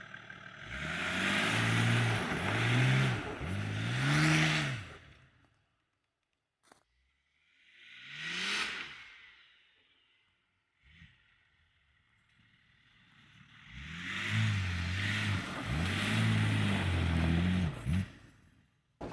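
Nissan Patrol engine revving and pulling away, two loud sustained bursts of engine roar separated by a quiet gap with faint passing noise.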